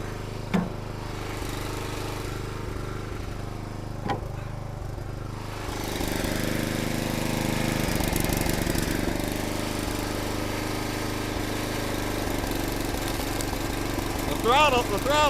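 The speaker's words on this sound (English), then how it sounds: "The throttle on this splitter don't work no more, so it goes from low RPMs to high RPMs." A firewood log splitter's small engine runs with a broken throttle, droning steadily at low speed, then rising to a louder, busier high-RPM roar about six seconds in, with faint voices at times.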